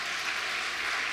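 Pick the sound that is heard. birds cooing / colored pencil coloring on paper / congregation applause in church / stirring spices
congregation applause in church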